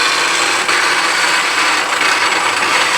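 Harsh, steady high-pitched grinding of a DoAll C-916A automatic horizontal bandsaw cutting through metal with coolant spraying on the band, loud and continuous without pause.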